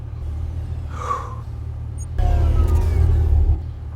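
An armed military off-road vehicle's engine rumbles deep and loud, a steady low drone that steps up abruptly into a heavier, harsher roar midway, with a brief hiss and whine layered on top.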